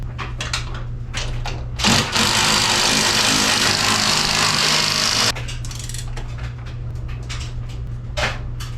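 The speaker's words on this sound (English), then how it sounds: "I've added Loctite to all the nuts and just torquing them down." Honda Talon radius rods having their nuts torqued down, a sustained loud mechanical whirr of roughly three and a half seconds between quieter clicks and handling noises, close up with no talking.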